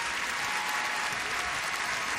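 A large arena crowd applauds a men's figure skater at the 2009 U.S. Championships in Cleveland, a dense, steady roar of clapping with no speech.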